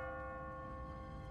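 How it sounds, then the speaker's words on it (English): Automatic church bell tolling in the video game The Walking Dead, a sustained ringing tone with steady overtones, moderately loud and alone without speech. "What kind of church bell goes off at 20 past the hour?"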